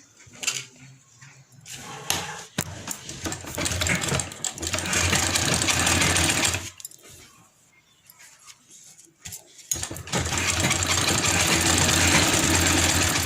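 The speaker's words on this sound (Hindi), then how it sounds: "अब यहाँ से एक सिलाई सीधी हम चला लेंगे" A sewing machine stitches a straight seam on a kurti near the neckline. Close, loud bursts of rapid mechanical stitching are broken by short pauses, with a longer quiet gap in the middle.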